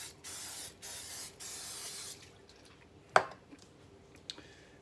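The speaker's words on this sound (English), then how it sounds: "Put some olive oil on it here." Olive oil misted from a spray bottle onto a chicken before smoking, three short hissing bursts in a row followed by a longer spray, then a sharp click and a few small handling taps.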